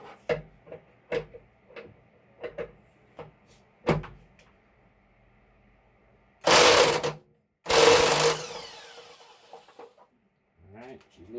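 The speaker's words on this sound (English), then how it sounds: "I'm going to skip straight to the electric impact." An electric impact wrench rattles in two loud bursts of about a second each while loosening the anode rod on an electric water heater. Before the bursts come sharp knocks and clanks from handling tools, and faint voices can be heard.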